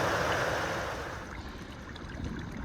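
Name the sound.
water source stream flowing on the Appalachian Trail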